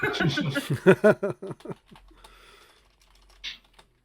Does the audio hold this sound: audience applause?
no